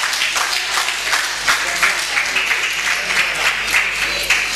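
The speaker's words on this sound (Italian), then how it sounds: "i genitori applaudono" Parents clap at a local sports festival in Lauria as a young athletics participant comes forward. The applause is steady and moderately loud, with a faint voice underneath.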